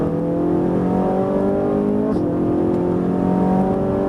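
A Ferrari 458 Italia engine roars steadily at close range on a race track, revving and pulling hard as it accelerates, a continuous loud mechanical drone with rising pitch.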